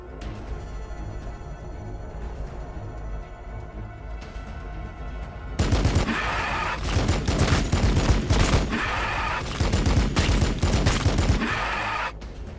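Cannon fire in the Warhammer 40k Battlesector video game: after a quieter stretch, loud, rapid bursts of repeated blasts and impacts erupt and continue densely for several seconds.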